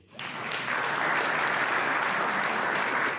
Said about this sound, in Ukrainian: Це швидше паузи в промові заповнювалися оплесками.